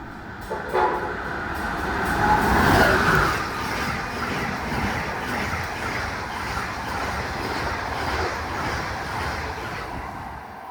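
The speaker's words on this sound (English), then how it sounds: "While it was stopped, Amtrak Silver Star passed southbound." An Amtrak Silver Star passenger train passes southbound on the Northeast Corridor at Odenton, Maryland, a steady rumble of wheels and cars swelling near the start, with a horn blast, then rolling on evenly to the end.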